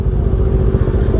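A 400cc inline-four motorcycle cruising at night, its engine a steady, close drone with low rumble and a faint mechanical clatter running without a break.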